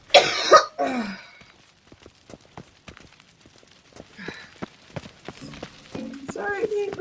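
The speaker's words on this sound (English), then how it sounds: "Yeah, sorry for coughing." A person coughs sharply a couple of times up close, followed by quieter scattered movement sounds and brief speech.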